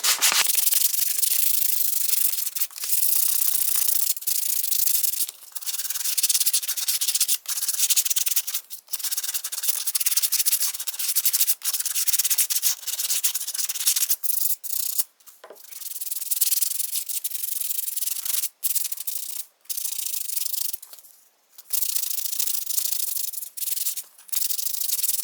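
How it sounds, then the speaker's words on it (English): Wooden chain links for a giant decorative chain are hand-sanded with steady, close back-and-forth rasping strokes, broken by short pauses between passes, and no voices. "Let the sanding begin."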